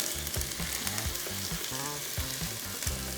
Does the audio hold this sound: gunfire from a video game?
no